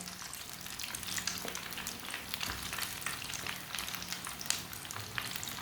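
Lentil tikki patties fry in a little oil in a pan, a steady soft sizzle with scattered crackles and pops throughout, faint and close with no talking.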